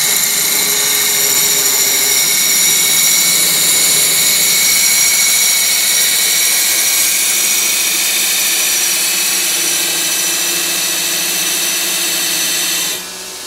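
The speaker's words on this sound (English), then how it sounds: "Put on your earplugs, because this is loud. Monster motor, 220 power, and get ready for the cool spark." Baileigh TN-400/TN-600 pipe and tube notcher on 220 power runs with a loud, steady high-pitched motor whine and grinding hiss for about thirteen seconds, close and alone, cutting off just before the end.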